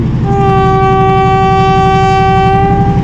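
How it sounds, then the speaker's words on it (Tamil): A train horn blows a long, steady harmonic blast over the low rumble of an approaching ordinary locomotive, loud and close, at the Nine Arch Bridge in Badulla, Sri Lanka, with no talking. "அங்கே ஊதுதா, கேட்குதா? வந்துருச்சு ட்ரெயின் வந்துருச்சு."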